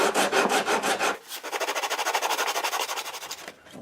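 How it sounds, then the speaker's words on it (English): A wooden binding strip is shaved down to a bevel angle on a baritone guitar body, producing a rapid series of rhythmic scraping strokes, close and crisp, with a brief pause before a longer even run. "shave down the outer binding strip to the same angle as the bevel"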